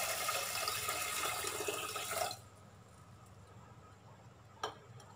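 Water pours into a bowl of soaking rice and green gram for pesarattu batter, a steady splashing stream that stops abruptly after two seconds and is followed by a single faint drip.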